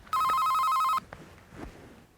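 A telephone gives a single warbling electronic ring lasting about a second, loud and clear, then fades into quiet room sound.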